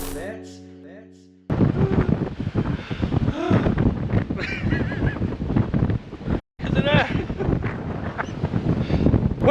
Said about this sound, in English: it's going to be way too windy for you to hear this